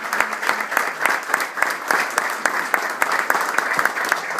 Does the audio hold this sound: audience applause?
yes